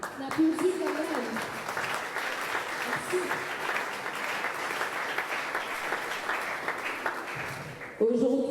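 A crowd applauds at a French-speaking gathering, with dense, sustained clapping that holds steady for several seconds, a voice speaking briefly at the start and again as the applause fades at the end.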